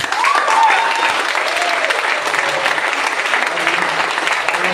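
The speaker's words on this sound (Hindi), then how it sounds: "अब ताली बजा रहे हैं।" An audience at a business seminar in Bilaspur, Chhattisgarh claps in a loud, dense, continuous round that holds even throughout, with faint background voices mixed under the clapping.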